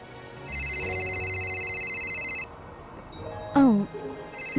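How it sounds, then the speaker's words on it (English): A cell phone ringtone plays loud and steady for about two seconds as a bright repeating electronic tone, followed by a brief rising-falling chirp and quieter background. "cell phone started ringing"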